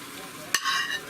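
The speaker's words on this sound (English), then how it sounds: "After I get all my pork added back, I want you to give it all a good stir." Pork stirred in an Instant Pot, with a single sharp utensil clack against the pot followed by a brief sizzling rustle, close and fairly quiet.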